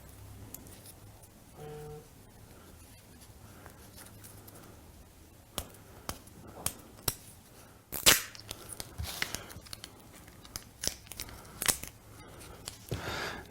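A piece of tape torn off a roll while tying thread for a magic trick, a sequence of sharp crackling rips and snaps, close and fairly loud, with brief pauses between bursts.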